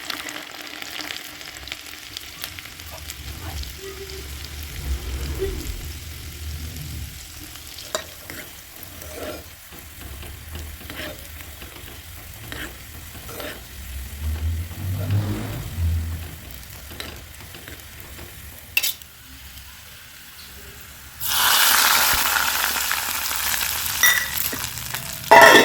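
Oil sizzles and crackles in a kadhai for a garlic and green chilli tadka, with stirring scrapes and light clinks, then a louder burst of frying toward the end.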